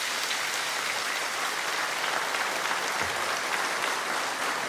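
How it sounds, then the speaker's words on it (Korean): Church congregation giving loud, sustained applause to welcome a senior pastor at a Sunday worship service, a dense even wash of clapping from many hands throughout. "우리 사랑과 환영의 마음을 담아 큰 박수로 모시겠습니다"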